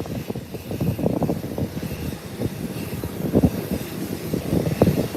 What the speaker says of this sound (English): The Gulfstream taking off.